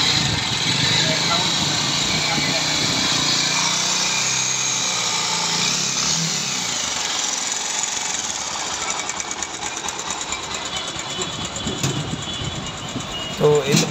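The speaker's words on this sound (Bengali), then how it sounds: "তো এই বাইকটির সাউন্ড শুনলেন।" A Bajaj Pulsar motorcycle engine runs steadily at close range, a loud, continuous mechanical drone with rattling texture that roughens and pulses slightly toward the end.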